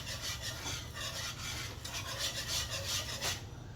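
Homemade gravy being whisked in a pan, a close, continuous rhythmic scraping and rasping with quick repeated strokes and no talking.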